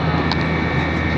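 Steady, loud airplane engine drone inside the cabin of a passenger flight, a continuous broadband roar with no breaks across the short stretch.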